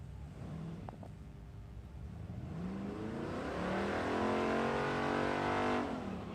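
Nitro drag racing car hot lapping on a dragway test day, a sustained engine roar building in pitch as it accelerates, heard from a distance over steady background rumble.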